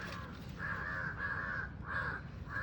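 Two crows near a Konkan mango orchard give a run of four loud, clear caws, one after another with short gaps, no talk.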